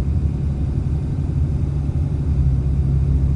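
Cummins 6.7L diesel truck cruising at part throttle with the stock grid heater and intake deleted, a steady low droning rumble of engine and road noise heard from inside the cab, without change in pitch or level.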